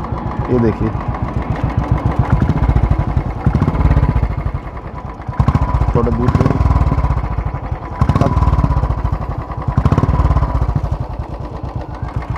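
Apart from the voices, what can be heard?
Royal Enfield Classic 350 motorcycle engine running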